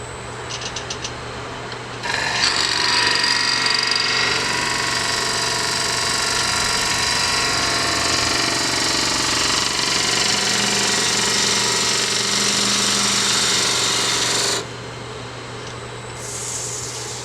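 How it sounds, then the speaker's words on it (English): Overhead dust collection system in a woodworking shop switches on with a loud, steady whooshing roar and hum that runs for about twelve seconds before cutting off, leaving quieter shop background. "I'm going to turn on the overhead dust collection."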